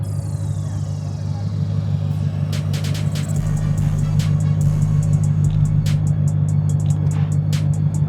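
A Whipple-supercharged S550 Mustang with an MT82 gearbox idles with a steady, loud low rumble at a street-racing meet, while sharp clicks and bursts of crowd chatter break over the top.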